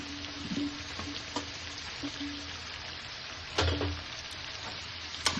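Chopped onions hit hot oil in a kadai of Bengali-style mutton, giving a steady low sizzle with occasional stirring clatters and a louder scrape near the end.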